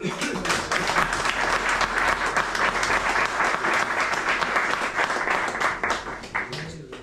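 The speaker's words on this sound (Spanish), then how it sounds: "os pido un fuerte aplauso para darle la bienvenida" Enthusiastic audience applause welcoming a guest speaker at a bullfighting club's cultural week event, a dense sustained clapping that fills the room, then fades out at the end.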